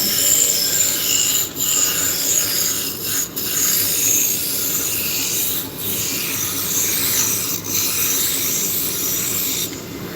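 Wood spinning on a lathe as a roughing gouge cuts it, giving a loud steady rasping hiss that dips briefly at a few moments as the cut shifts, with no talking.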